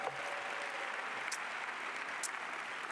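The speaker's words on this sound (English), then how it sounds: "Linda Tillman a big round of applause?" Steady, even applause from a conference audience at an academic presidential address, held at a moderate, somewhat distant level for the full length with no voices.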